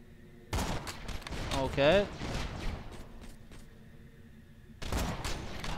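Rapid gunfire bursts from a player's weapon in a shooter video game, several sharp volleys close up with a short quiet gap between them, while a voice talks over the start.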